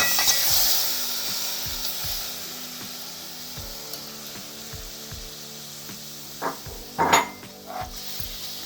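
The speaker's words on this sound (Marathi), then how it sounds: "आता मी याच्यात माकुल घालून घेणार आहे" Squid (makul) cooking in hot oil in a pan: a soft steady sizzle under regular clinks and taps of a utensil, then several louder scraping, stirring bursts near the end.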